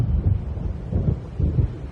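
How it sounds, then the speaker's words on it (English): Low thunder rolls in during an approaching storm in Alan Wake Remastered, three deep rumbling swells that rise and fade, muffled and moderately loud with no voices. "It seems there's a storm coming."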